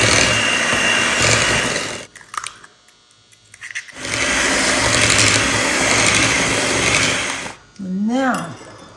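An electric hand mixer beats eggs into red velvet cake batter in a home kitchen, running loudly for about two seconds, pausing, then whirring steadily again before stopping as a voice briefly speaks.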